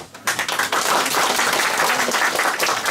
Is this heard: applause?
yes